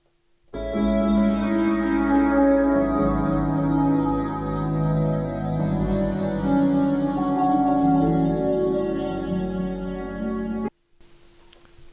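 A soft, hazy synth pad, TUC Blurry Distant Thing from the Podolsky plugin, plays a sustained neo-soul chord progression with warm blurred harmonics, swelling in and holding for about ten seconds before cutting off abruptly.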